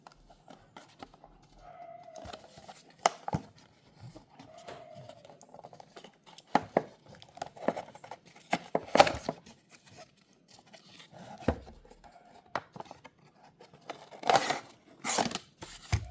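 Unboxing an RMZ City 1963 Corvette Stingray model: scattered faint taps, clicks and rustles of packaging being handled, with brief scraping and crinkling bursts in a quiet room.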